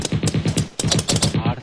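Gunfire in a comedy skit: two quick volleys of rapid, evenly spaced machine-gun bursts, close and loud, with a brief gap between them.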